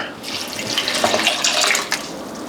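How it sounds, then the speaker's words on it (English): Water pours steadily into a cooking pot while vegan chilaquiles cook at a local market food stall, a continuous close splashing stream lasting a few seconds with no talk. "We're gonna add water."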